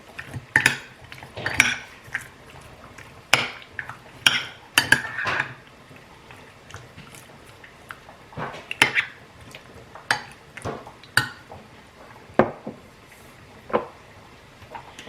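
A utensil mixing seasoning with pepper and smoked paprika in a bowl for homemade chicken nuggets, with repeated close clinks and scrapes against the bowl in irregular bursts over about fifteen seconds, no talking.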